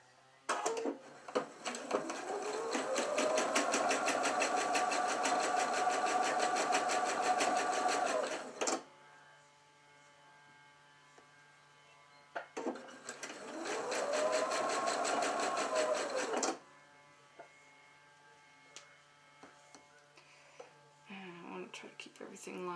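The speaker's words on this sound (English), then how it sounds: "now I'm going to sew down around the front of the foot" A sewing machine stitches around the curved front of a stuffed teddy bear's foot in two sustained runs of steady, rapid whirring, the first about eight seconds and the second shorter, separated by a quiet pause with faint handling noises.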